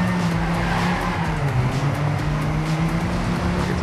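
Racing car drifting through curves in TrackMania 2 Canyon, a steady loud engine drone with tire squeal running continuously throughout.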